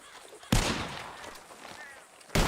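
Gunshots fired at flying birds in the Red Dead Redemption 2 video game: two loud, sharp blasts about two seconds apart, the first trailing off in a short echoing decay.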